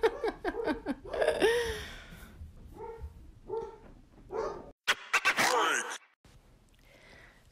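Dogs bark and whine close by in short irregular bursts, with snuffling breaths and gaps of near-silence between the outbursts.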